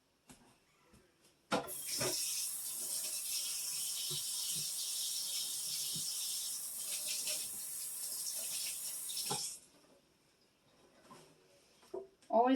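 A kitchen tap runs steadily for about eight seconds while hands are washed after handling raw ground beef, with small splashes and clatters throughout, then the water shuts off and the sink goes quiet.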